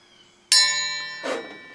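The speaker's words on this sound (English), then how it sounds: "Ring the bell." A single bright metallic bell strike rings out sharply and decays with a long shimmering tone, followed by a softer second touch as it fades.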